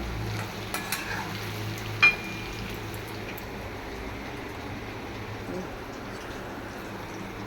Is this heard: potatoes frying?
yes